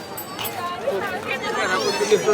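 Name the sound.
large crowd at Tukaram Maharaj palkhi procession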